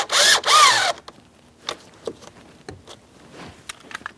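A power tool whirs in two short loud bursts while snugging the upper bolt on a Ford Transit 250 steering column, followed by scattered light clicks and knocks of handling.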